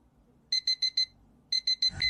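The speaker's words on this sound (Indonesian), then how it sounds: "Alarm ini cuma efektif 3 hari." An alarm clock rings in two bursts of sharp, shrill electronic beeps, four in each group, with a short gap between them. The beeps are loud and close against a quiet room, and a faint rustle follows at the end.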